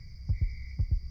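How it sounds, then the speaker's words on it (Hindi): A heartbeat sound effect gives two deep, thudding double beats, lub-dub then lub-dub, close and clear over a faint steady hum. "उसके दिल की धड़कन तेज हो गई।"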